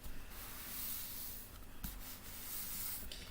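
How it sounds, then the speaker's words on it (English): Glued craft paper is slid into place on card, giving a soft, steady rubbing scrape close by that runs for a few seconds with a brief pause, and no talk. "Now I'm going to slide it into place just to spread that glue out a bit"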